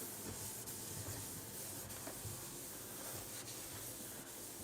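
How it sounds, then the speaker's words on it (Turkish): A dry cloth rubs across a built-in stovetop, a close, continuous soft scrubbing hiss with faint repeated strokes and no voices. "şimdi şu şekilde kuru bezle silme işlemini yapıyoruz"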